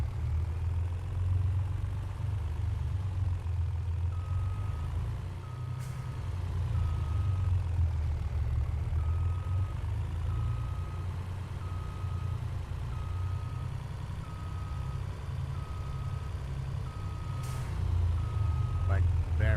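Heavy trucks in the Farming Simulator game drone loudly with a deep, steady engine rumble, while a reversing alarm beeps in an even, repeating rhythm from a few seconds in until the end.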